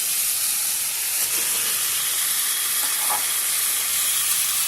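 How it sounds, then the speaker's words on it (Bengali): Fried eggs go into spice masala frying in oil, giving a loud, steady sizzle with soft stirring scrapes throughout and no voices. "এবার আমি ভেজে রাখা ডিমগুলোকে এর মধ্যে দিয়ে দেবো"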